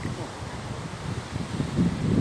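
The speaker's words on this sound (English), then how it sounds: "It's getting a little bit windy too." Gusty wind buffets the microphone outdoors during a thunderstorm in Virginia, giving a steady rough rushing noise that grows a little stronger toward the end.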